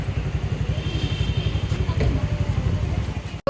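An auto rickshaw's engine chugs in a steady, rapid pulse close by as it pulls up, ending with a brief cut, while a voice speaks over it.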